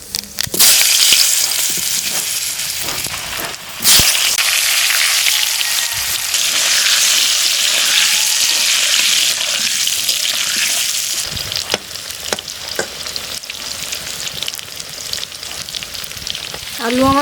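Potatoes fry with whole spices in oil left over from frying rohu fish, giving a loud, continuous sizzle. A few stirring scrapes and clatters break in, and no one speaks.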